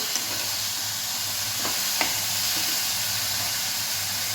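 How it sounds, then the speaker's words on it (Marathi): Dill greens are stirred into a hot frying pan, giving a continuous close sizzle with a couple of sharp scraping stirs partway through, and nobody talking. "आता आपण भाजी घालून घ्यायची आहे छान मिक्स करायची"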